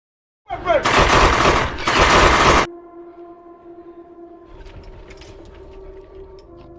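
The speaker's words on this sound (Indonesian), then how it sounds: "Di sini Raditz kembali berulah dengan menembak tas milik Nardi" Two loud, sustained bursts of automatic gunfire ring out up close in a war film about British soldiers, followed by a low steady hum and scattered faint noises.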